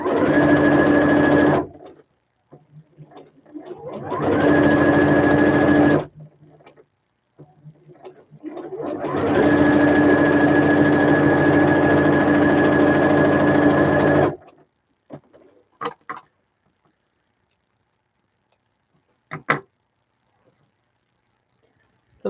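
A sewing machine stitches fabric in three sustained bursts separated by short pauses, loud and close, followed by a few faint clicks and taps.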